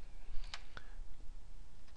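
A few soft, sparse clicks of typing on a computer keyboard while entering an Excel formula, quiet isolated keystrokes over a faint room hiss with no speech.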